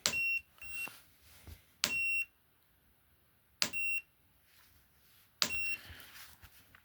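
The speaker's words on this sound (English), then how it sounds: "So every time it beeps," Electronic beeps from a meter measuring a PEMF device, four sharp high-pitched tones spaced a couple of seconds apart, with faint background noise between them.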